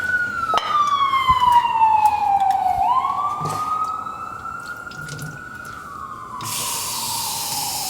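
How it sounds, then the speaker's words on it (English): Outdoor emergency siren sweeps downward then climbs and levels off, a clear wailing tone heard through a kitchen, with brief clatter and a burst of running water near the end. "sorry about the sirens"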